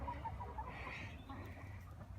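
Chickens clucking around a coop, a few soft clucks and calls surfacing over a steady low outdoor rumble, fairly close and continuous.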